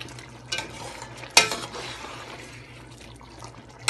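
Chicken pieces for biryani simmer in a covered pot in their own juices from yogurt and tomato, giving a soft steady sizzle and bubbling with a few louder stirring clanks, and no voices.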